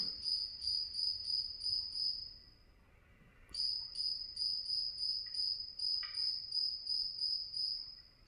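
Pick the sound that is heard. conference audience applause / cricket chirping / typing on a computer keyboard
cricket chirping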